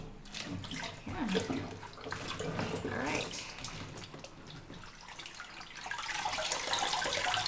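Tap water runs steadily and splashes while a vegetable is rinsed in a large colander in a home kitchen, a continuous close rushing that stays loud throughout, with brief talking over it.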